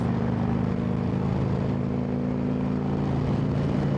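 A steady engine drone rumbles continuously, like a motorcycle cruising at an even speed, loud and unbroken with wind-like noise over it.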